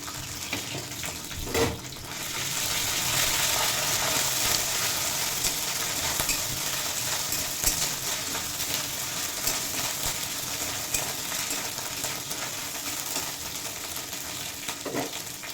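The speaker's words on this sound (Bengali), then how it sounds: "পেঁয়াজটা অনেকটাই ভাজা ভাজা হয়ে গেছে" Steady, continuous sizzling of onions frying in a pan, close and fairly loud, with occasional stirring scrapes and no talking.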